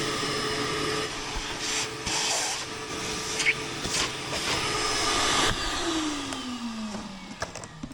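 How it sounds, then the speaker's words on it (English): Vacuum cleaner runs loud and close while sucking up concrete debris on a shop floor, a continuous roaring hiss with intermittent rattling pickups and a falling whine near the end. "so time to vacuum that up."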